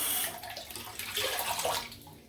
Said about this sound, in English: I'll run my washcloth with some really hot water